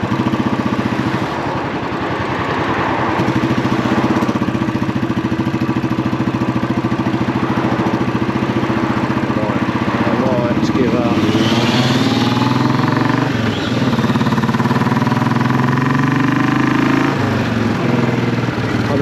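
A classic 500 motorcycle with a Goldstar aftermarket exhaust runs close by, loud and throaty, rumbling steadily and blipping the throttle a few times.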